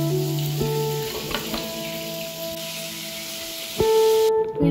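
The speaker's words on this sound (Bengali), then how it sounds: "ওই তেলের মধ্যে কিউব করে কাটা পেঁয়াজ আর ক্যাপসিকামগুলো আমি দিয়ে দিচ্ছি। এগুলো হালকা ভেজে নেব।" Cubed onions and capsicum fry in hot oil in a pan, a steady, close sizzling hiss with a few light clinks as the pieces are stirred.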